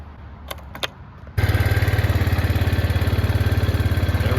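An Arctic Cat 400 4x4 ATV with a newly replaced starter solenoid fires up after a couple of faint clicks, then settles into a loud, steady, close-up idle with an even pulsing beat.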